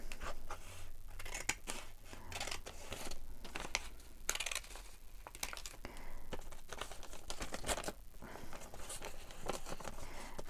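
Scissors snipping and crunching through paper for a collage art project, with crinkling and an occasional tear, steady and close for several seconds with no talking.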